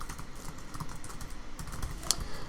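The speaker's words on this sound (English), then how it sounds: "That is a lot of typing." Fast, steady typing on a computer keyboard while coding, a quiet run of close key clicks with one sharper keystroke near the end and no talk.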